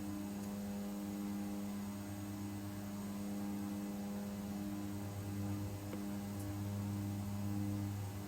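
Airliner engines spool up at steady power for a takeoff roll in Microsoft Flight Simulator 2020, a constant low drone with tonal hum, heard alone without voices.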